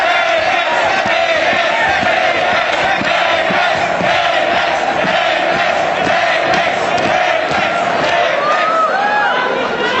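A packed crowd at a rap battle event roars and cheers continuously, loud and close, with yelling and whoops layered over a dense wall of voices throughout.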